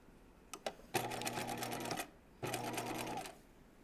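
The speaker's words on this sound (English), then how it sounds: "so we're gonna sew the sleeve in" Sewing machine setting in the sleeve of a raglan top, with a couple of light clicks followed by two bursts of fast, even stitching, each about a second long, separated by a short pause.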